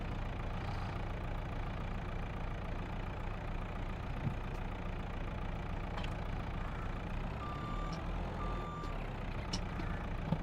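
A small farm truck in Farming Simulator 22 idles with a steady low engine rumble, then its reversing alarm sounds a few clear beeps near the end, with no talking.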